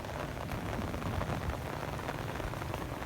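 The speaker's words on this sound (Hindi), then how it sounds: "कितनी प्यारी बारिश है," Monsoon rain falls over a village road, a steady dense hiss of drops on surfaces that holds at an even level throughout.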